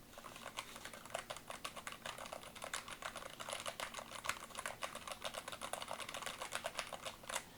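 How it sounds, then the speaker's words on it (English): Continuous quiet typing on an End Game KB65HE keyboard, a rapid, steady patter of soft, muted keystrokes running throughout with no talking. "Now that I've spent all this time talking about the features of the keyboard, how does it type? Well, listen to how not loud it is."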